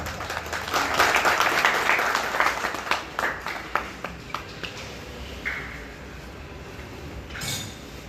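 Audience applause at a gathering honoring an ustad, dense clapping building over the first few seconds then thinning into scattered claps and a few clinking sounds.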